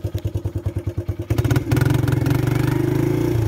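A 1983 Suzuki LT125 engine turning over with rapid rhythmic chugging pulses that catch and settle into a steady, close, buzzing idle.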